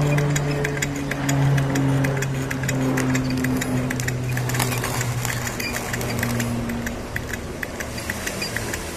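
A homemade Stirling engine with a glass piston, cooled with ice, runs steadily close by. It makes a fast, even mechanical ticking over a low, constant hum, with no talking.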